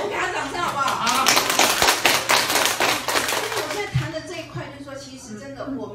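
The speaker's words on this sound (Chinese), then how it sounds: "我给他掌声好不好" An audience at a seminar session in Zuoying, Kaohsiung breaks into brisk, close applause that swells and then fades, with people talking over it.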